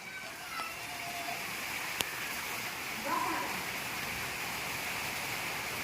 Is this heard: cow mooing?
no